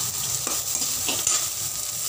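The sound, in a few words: stirring and sautéing chopped onions in pan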